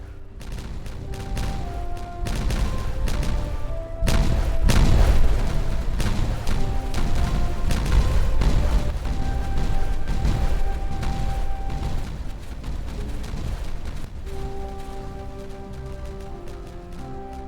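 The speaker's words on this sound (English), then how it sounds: "We'll set these explosives off." Explosives set off in the colony-building game Timberborn go off as a run of deep booms and crackling blasts, rumbling over steady game music for several seconds before easing back.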